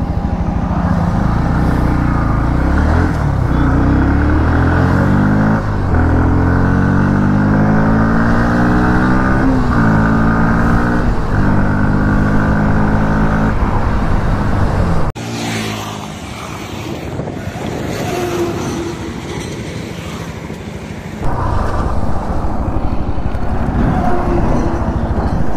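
A 2022 Bajaj Pulsar NS160 BS6 motorcycle revs up through rising engine tones to about 80, then the engine note drops away under braking before it accelerates again, loud and close with wind rush.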